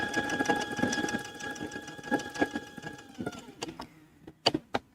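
A sewing machine running a twin needle along a t-shirt hem, a close, steady whirring motor with rapid stitching chatter, then slowing to a stop with a few separate clicks and knocks.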